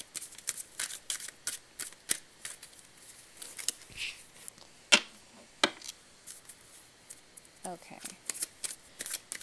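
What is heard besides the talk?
shuffling tarot cards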